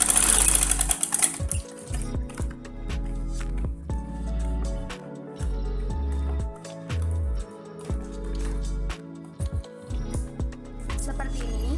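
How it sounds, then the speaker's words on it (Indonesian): A sewing machine stitches the darts of a songket skirt in several bursts of fast, rhythmic needle hum separated by short pauses, close and clear. "Kemudian langsung saja kita jahit."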